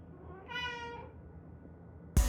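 House cat meowing while waiting at the door, a single drawn-out, fairly clear meow in a quiet room, followed by a sharp bump at the end.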